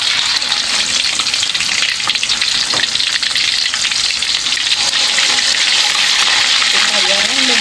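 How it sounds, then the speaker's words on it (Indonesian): Chicken pieces fry loudly in hot oil, a dense, steady sizzle and crackle that holds close and constant throughout, with faint clinks of stirring. "Kita goreng beberapa potong ayam."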